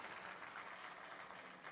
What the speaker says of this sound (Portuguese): Se você puder dar uma salva de palmas honrando a Jesus